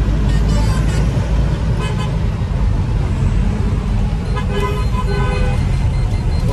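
A Wagon R car's horn honks insistently on a busy road, with bursts of tooting over loud, steady traffic and engine rumble while someone talks nearby.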